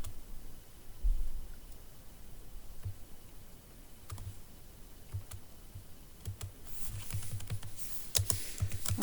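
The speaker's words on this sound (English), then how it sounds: "So I'm going to type in the equation." Computer keyboard typing at a quiet desk, with soft, irregular key clicks in short bursts that grow busier toward the end, no voices.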